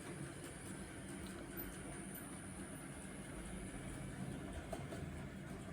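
A Bachmann 08 shunter model locomotive in Freightliner orange livery runs with a continuous low motor hum and faint track rumble, steady and moderately quiet throughout.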